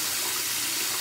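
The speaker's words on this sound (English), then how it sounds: "I always rinse out the head, and then I'll rinse my face" A tap runs steadily into a sink while someone rinses their face, a close, loud, even hiss of flowing water for about a second with no talking.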